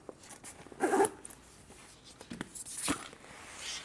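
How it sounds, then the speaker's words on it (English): A Thule EnRoute 14L backpack is zipped shut in a few short, rasping pulls, close by and fairly quiet, with small handling rustles in between and no talking. "And then we just zip it all back up."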